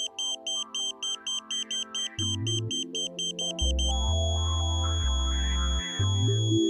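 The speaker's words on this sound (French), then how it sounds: "Jusqu'à entendre la tonalité continue." A KA-SAT satellite dish pointing signal starts as a rapid series of short, regular high beeps, then settles into a steady continuous tone over a synthetic electronic backing.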